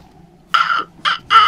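An owl in the Harry Potter and the Order of the Phoenix video game gives three harsh, loud screeching calls in quick succession, close by against a quiet background.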